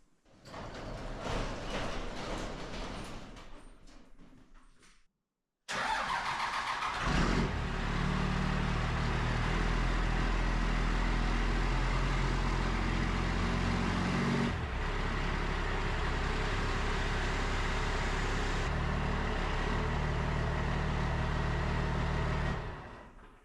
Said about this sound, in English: I'm going to open the doors on the shop and start the truck up and see what it does.